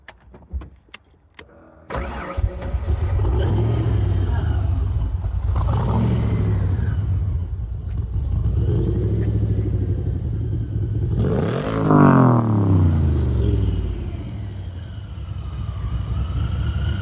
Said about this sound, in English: And I love how the blower makes a little whistle, so you know it's coming.